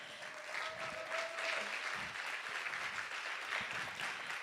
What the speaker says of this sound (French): Je pense qu'on peut vous applaudir encore une fois.